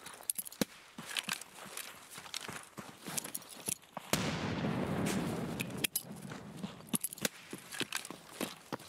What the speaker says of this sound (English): Throwing some grenades.